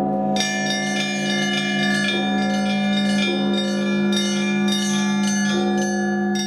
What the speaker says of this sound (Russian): здесь звучит колокольня лавры